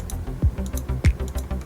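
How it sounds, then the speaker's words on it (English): Keys clacking on a computer keyboard as an IP address is typed in, a quick irregular run of close, crisp taps with a few heavier strokes. "logging into my NAS by typing in the IP address."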